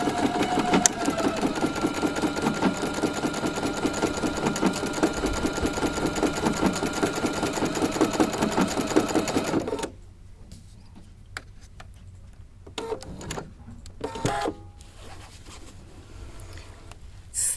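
A sewing machine runs steadily, stitching a longer quilting stitch, with a dense, rapid mechanical chatter that is close and loud for about ten seconds. It then stops, leaving a few scattered clicks and handling noises.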